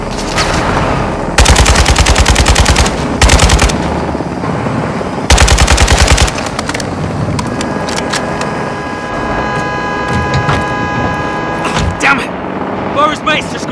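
Machine gun fire in the Call of Duty MW2 campaign, several loud sustained bursts of rapid automatic shots over constant battle noise and engine rumble, with voices speaking in the mix.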